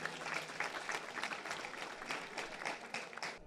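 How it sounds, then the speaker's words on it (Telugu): Sustained applause from a large audience at a meditation gathering in Hyderabad, dense steady clapping without a break. "ఒకసారి దాన్ని గట్టిగా చప్పట్లు కొడదాం."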